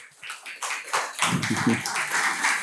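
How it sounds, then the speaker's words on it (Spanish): Faint, brief clapping from the audience at a university inaugural lecture, a light patter of hands that builds slightly toward the end. "Un fuerte aplauso para el doctor"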